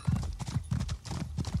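Horse hooves clip-clopping in the Elder Scrolls Online video game, a steady close rhythm of galloping footfalls that runs throughout, heard alone with no talk.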